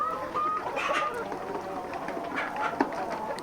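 Laying hens cluck and murmur steadily in a busy coop, with soft overlapping calls and faint background chatter throughout.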